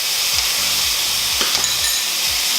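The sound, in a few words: roasted red peppers in olive oil added to sizzling pan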